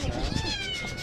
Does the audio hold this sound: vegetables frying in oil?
no